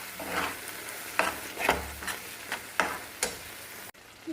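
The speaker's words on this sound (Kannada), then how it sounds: "ಮಿಕ್ಸ್ ಮಾಡಿ ಸ್ವಲ್ಪ ಫ್ರೈ ಆಗಲಿ" Bangude (mackerel) fish sizzling on a tawa, a steady close fry broken by several sharp scraping stirs at regular intervals.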